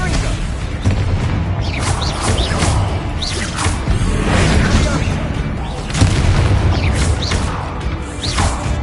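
Confringo fire spells go off during a spider fight in Hogwarts Legacy, with repeated booming blasts and whooshes layered over a loud, dense battle din that continues throughout.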